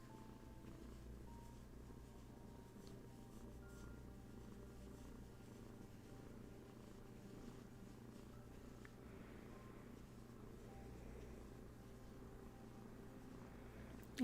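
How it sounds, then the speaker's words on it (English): A cat purring in a person's lap during a livestream, a very faint, steady low rumble that continues without a break. "cat purring away in my lap"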